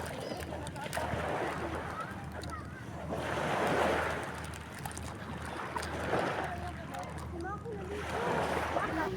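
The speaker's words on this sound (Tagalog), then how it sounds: "nakaka-relax naman talaga ang tunog ng mga alon" Ocean waves wash onto a shore in slow, rolling surges that swell and fade about every few seconds, with steady wind noise buffeting the microphone and a low hum underneath.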